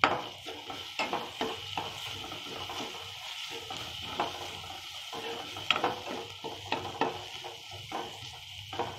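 Chicken masala with onion-garlic spice paste sautéed in a pan for bhajoon chutney, a low steady sizzle broken by frequent soft scraping stirs, close but quiet.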